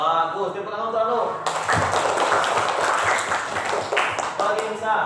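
Schoolchildren in a grade 4 classroom break into broad, dense clapping that starts abruptly and carries on steadily, with voices mixed into the noisy applause.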